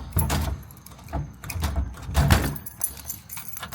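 A faulty house door being opened, giving a few rattling, clunky knocks and scrapes spread over several seconds, fairly close and moderately loud with no talk.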